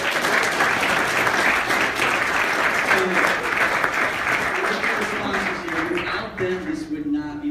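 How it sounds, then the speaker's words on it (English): Broad, continuous applause from a convention audience thanking event sponsors at a young entrepreneur convention, dense clapping holding steady before thinning out, with some voices emerging near the end. "let's give a round of applause for our sponsors."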